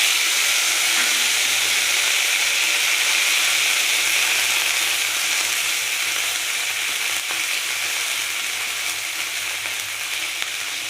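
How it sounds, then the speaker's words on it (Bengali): Ginger and green chili paste sizzles steadily in hot oil with cumin, a continuous bright frying hiss that stays close and even throughout. "আর এই যে এখানে আছে আদা আর কাঁচা লঙ্কা পেস্ট, দিয়ে দিলাম এই তেলের মধ্যে।"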